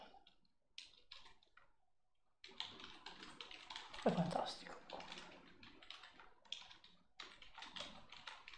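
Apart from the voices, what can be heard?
typing on a computer keyboard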